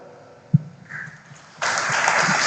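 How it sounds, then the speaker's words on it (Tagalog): Congregation in Quiapo Church breaks into applause during Mass, a sudden broad wash of clapping that starts midway after quieter room sound and keeps building to the end. "Pumalakpak nga po."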